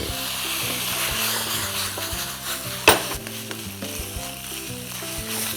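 Pork bones seasoned with light soy sauce stir-fried in a pan: loud, steady sizzling with rhythmic scraping of the utensil and one sharp metallic clank midway.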